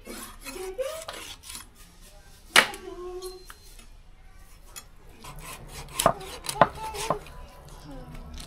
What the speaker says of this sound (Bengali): বিরিয়ানি রান্না করার জন্য আমি এখন চিকেন কেটে নেব